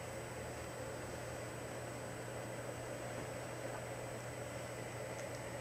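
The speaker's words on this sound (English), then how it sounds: "If you hear a buzzing, by the way, in the background, it's the fan." A fan buzzes steadily indoors, a faint, even hum and hiss that stays constant with no talking over it.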